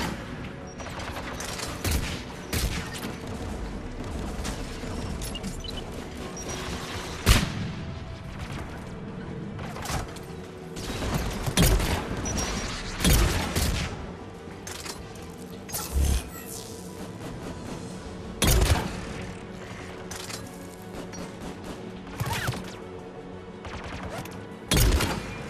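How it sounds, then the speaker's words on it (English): Anti-aircraft guns firing in Mass Effect 3 during a battle, a dense continuous fusillade of booming shots with heavy thumps standing out every few seconds over a constant roar of background combat. "There! Anti-aircraft guns!"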